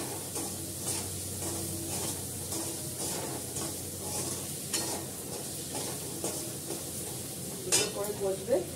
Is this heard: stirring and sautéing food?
yes